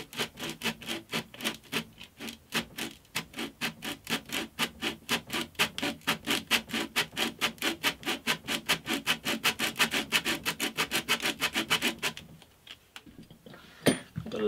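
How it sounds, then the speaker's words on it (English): Sandpaper rubs back and forth over a wooden back lining inside an acoustic guitar body, a close rhythmic rasping of quick even strokes that speed up, then stop, followed by a couple of light knocks. "I'm going to see if I can refine it in place with a piece of sandpaper"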